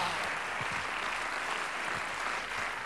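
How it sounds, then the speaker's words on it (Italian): Comedy show audience applauding in a television studio: a steady wash of many hands clapping, moderately distant and fairly quiet, sustained without pause. "Questo applauso."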